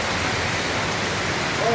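Floodwater in Mambaling, Cebu rushes in a steady, loud broadband wash like heavy rain or a torrent, continuous and close throughout with no clear voices.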